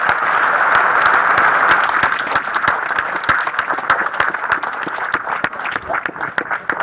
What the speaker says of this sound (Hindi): जिन्होंने काम नहीं किया उनके लिए जोरदार ताली बजाओ।